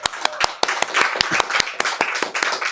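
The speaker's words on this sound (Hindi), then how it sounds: "हम यीशु मसीह के लिए हम ताली बजा सकते" A church congregation claps in a steady rhythm of sharp, loud hand claps, about two per second, close and sustained for the whole stretch, with faint voices underneath.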